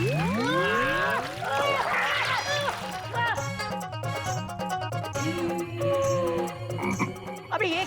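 Frog croaking as a comic effect in a Hindi zoo-themed TV comedy, repeated rhythmic croaks over a busy mix of music and voices, with people talking around it.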